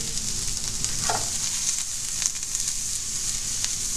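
Steady, close sizzling and crackling of food frying in hot oil, with a brief clatter as something is stirred in the pan.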